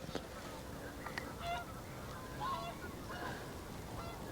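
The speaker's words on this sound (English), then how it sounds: "Some whooper swans coming in there across the mere, pair of them." Distant honking calls of a pair of whooper swans flying over a mere ring out a few times over faint outdoor ambience, brief bugling notes spaced apart.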